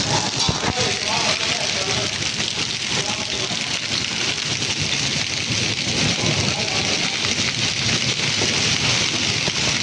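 Steady heavy rain pours outdoors during a pigeon high-flyers tournament, a loud, unbroken hiss of drops on surfaces that lasts the whole stretch, with a voice faintly heard at moments.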